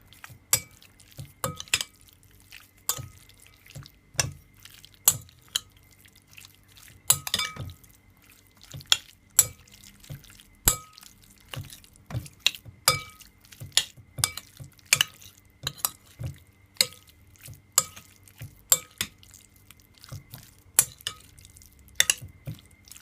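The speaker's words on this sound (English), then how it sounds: "Just give it a stir." A utensil stirring steak seasoning in a bowl, producing a steady series of sharp clinks and scrapes, close and moderately loud, continuing for over twenty seconds with no talking.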